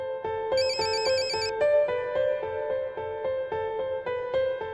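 A telephone rings indoors with a repeating electronic tone pattern that sounds steadily several times. It is clear and fairly loud, with no one talking over it.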